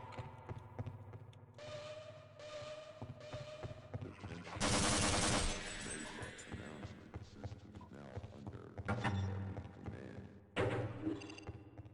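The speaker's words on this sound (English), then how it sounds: "the SMG like fires slower" A submachine gun firing in Half-Life: Delta Particles, rapid bursts of shots cutting in and out over game ambience, with louder volleys in the middle and near the end.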